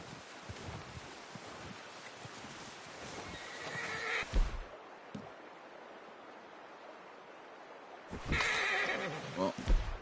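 Horse whinnying in the Western video game Red Dead Redemption, two loud neighs a few seconds apart amid outdoor ambience of rustling leaves, wind and hoof clip-clops, with a voice speaking in between.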